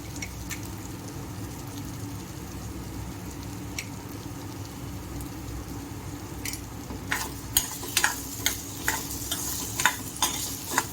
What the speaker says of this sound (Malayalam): ഇത് ഹൈ ഫ്ലെയിമിൽ തന്നെ ഞാൻ നല്ലോണം ഒരു ഹാഫ് കുക്ക് ആവണ വരെ ഒന്ന് ഇളക്കിയെടുക്കും.